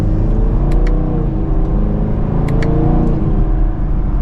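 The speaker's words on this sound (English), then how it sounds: "Mild acceleration, and it still sounds good." A 2024 Chevrolet Camaro 2SS in sport mode, second gear, accelerating mildly with a loud, close, deep V8 exhaust rumble that swells steadily, with a few faint high clicks on top.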